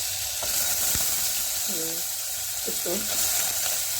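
Potato pieces frying in hot oil in a pan for a cabbage dish, with a continuous close hissing sizzle and a few faint tonal clinks mixed in.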